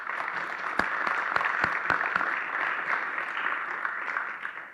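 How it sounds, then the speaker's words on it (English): A crowd at a Distinguished Educators Hall of Fame ceremony claps steadily throughout, a dense patter of applause with a few sharper individual claps standing out. "let's give him a round of applause"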